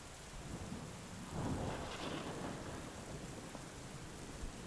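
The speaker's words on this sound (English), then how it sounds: "The storm's ending now." Steady rain hisses throughout while a low roll of thunder swells in the middle, soft and distant, with no voices.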